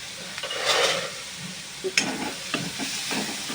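Onions fry in about 1.5 tablespoons of oil, a soft steady sizzle with a few brief clinks and scrapes of stirring, close by.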